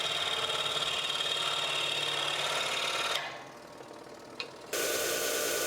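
A scroll saw cuts a wooden carving, running as a steady, fairly close mechanical buzz that drops off for about a second and a half, then starts up again.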